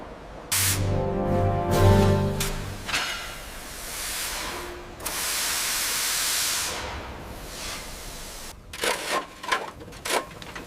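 Loud bursts of hissing steam from a restored Thomas the Tank Engine, each lasting a few seconds, with a brief tonal rumble early on and clattering near the end.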